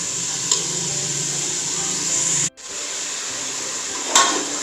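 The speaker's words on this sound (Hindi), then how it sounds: "अब हम इनको अच्छे से भूनेंगे" Tomatoes with green chillies and ginger-garlic paste frying in a pan for daal mash, a steady close sizzle with stirring scrapes, a brief metallic knock near the middle and another toward the end.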